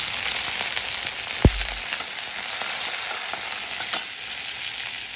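Curry leaves sautéing in hot oil for bhagar, a barnyard millet dish, give a loud, continuous close-up sizzle and crackle, with one low thump early on and a few light clicks throughout.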